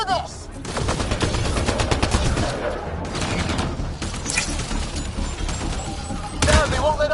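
Gunfire in the video game Mass Effect Andromeda, loud sustained automatic bursts with heavy thuds rattling almost without pause, and voices calling out over the shooting.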